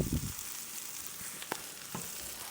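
Pork cutlets frying in oil for kotlet schabowy, a steady faint sizzle with a few soft pops and clicks.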